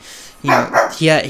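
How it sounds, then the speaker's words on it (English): Pet dogs bark in short harmonic yelps, two or three in quick succession, mixed in with someone talking on a sports podcast. "excuse my dogs"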